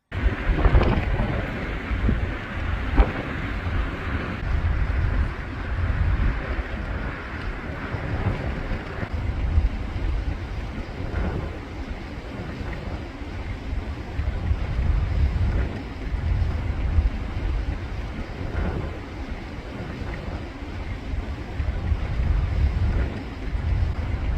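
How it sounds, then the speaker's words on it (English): Fierce wind blows across a ship's deck in the Nordfjord in Norway, a constant heavy rumble and buffeting of air on the microphone with gusts that surge and ease over more than twenty seconds. "The wind became quite fierce."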